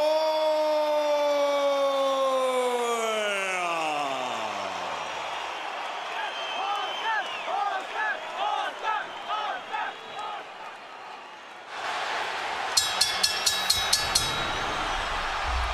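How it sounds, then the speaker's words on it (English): A large crowd roars and chants at a Pacquiao vs. De La Hoya boxing match, starting with a falling siren-like tone, then rhythmic chanting pulses from the arena, ending with sharp rapid bell-like strikes. "The Filipino crowd chanting for Pacquiao as he moved toward the center of the ring even before the opening bell."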